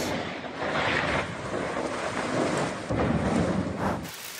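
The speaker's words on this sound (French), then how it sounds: "Plusieurs départements sont touchés par ces orages, soudains, très localisés." Sudden, highly localized thunderstorm in France, with continuous rain and deep rolling thunder filling the scene, buffeted by wind noise, steady and loud throughout with no voices.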